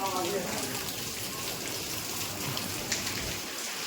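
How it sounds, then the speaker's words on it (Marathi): Rain falling steadily with a soft hiss and scattered drops at a market in Katra, while people's voices murmur faintly in the background. "अरे पाऊस गिर पडला"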